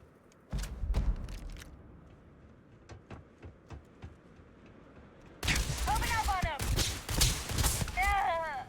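Gunfire in the space shooter Starfield: a broadband burst of rapid shots, then scattered single cracks, and later a dense, loud stretch of shooting mixed with warbling effects and voices.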